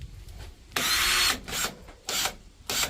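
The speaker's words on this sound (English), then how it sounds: "drill a pilot hole first" A power drill bores a pilot hole into timber on a 20-year-old deck being renovated, in three loud whirring bursts separated by short pauses, close by with no talk.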